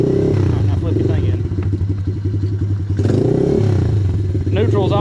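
A Yamaha TTR-90 small dirt bike engine after a fuel tank repair, idling loudly and close with a rough throbbing beat, rising in pitch as the throttle is twisted and settling back between blips.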